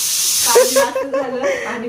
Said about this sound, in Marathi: स्वयंपाक चालू आहे कुकरच्या शिट्ट्या कुकरला पाणी जास्त झालं का